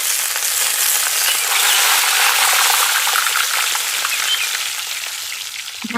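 Four dry red chillies and mustard seeds spit and hiss in hot oil, a loud, bright, continuous sizzle that eases off toward the end.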